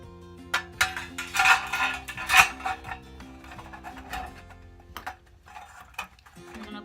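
A lid is set onto a DIY vanity mirror box, giving a run of light clinks, taps and small knocks, close and fairly quiet, with softer handling sounds afterward.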